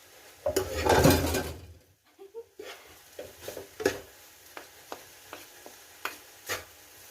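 Beef samosa filling stirred in a metal pan, a loud scraping churn at first, then a series of separate spoon clinks and scrapes against the pan with a faint sizzle underneath, no talking.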